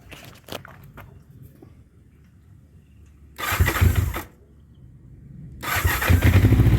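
A 1984 Honda CB700SC Nighthawk motorcycle with a choke applied cranks and catches in two loud bursts of engine noise separated by a pause, with a few clicks and faint handling sounds before the first attempt.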